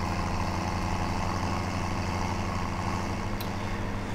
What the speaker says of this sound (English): I do like using this tractor. It's a nice tractor.